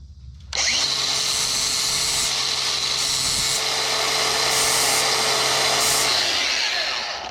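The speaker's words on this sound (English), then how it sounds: "I'm gonna grind the little ball off." Power grinder on a Landpride APS seeder part, grinding a small ball off it: a loud, steady high whine switching on abruptly and holding for several seconds before easing off.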